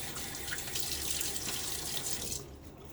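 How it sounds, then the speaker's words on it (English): Tap water runs and splashes steadily for over two seconds as a face is wetted during a wet shave at a sink, then cuts off abruptly near the end. "Throw some water on my face."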